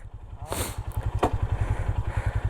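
A motorcycle engine runs with a fast, even, pulsing thump close by during a camping trip, and short bursts of talk and noise sit over the steady beat.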